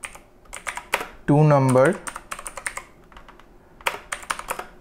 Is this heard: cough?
no